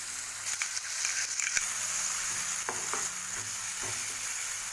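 Mango pieces frying with kalonji seeds in a pan while being stirred: a continuous sizzle broken by several scraping, clacking strokes of the spoon against the pan.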